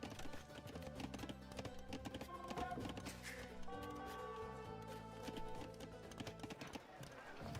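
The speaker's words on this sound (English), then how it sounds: "Bulgarians typically like doing things on the clippity-cloppity horses" Horse hooves in Age of Empires II clip-clop as Bulgarian cavalry moves out from a stable, a quick tapping rhythm layered over game sounds and music, with a commentator talking.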